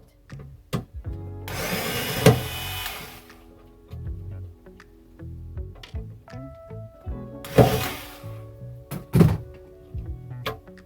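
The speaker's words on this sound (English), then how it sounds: "right now I'm starting the process of taking the hardware off" Hardware being removed from laminate cabinets in a 1987 Cadet fiberglass camper, with a burst of power-driver whirring followed by several sharp thunks and knocks of screws and hinges coming loose, fairly close by.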